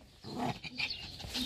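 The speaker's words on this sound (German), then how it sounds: "Die bellt schon." A dog on a farm gives a short burst of low growling barks, close and fairly quiet, with no talk over it.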